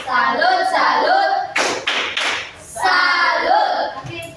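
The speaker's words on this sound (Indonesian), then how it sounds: "mari kita beri tepuk salut untuk kelompok 2 yang sudah mempresentasikan hasil diskusi mereka" A class of students performs a rhythmic chant-and-clap cheer together: loud group chanting alternates with a few sharp, close bursts of clapping, all in a set pattern.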